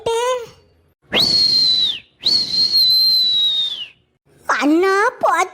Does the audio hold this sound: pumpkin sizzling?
no